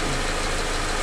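A warmed-up 2013 Subaru Impreza engine idles steadily after a fresh engine install, a brief, even, close hum with no talk.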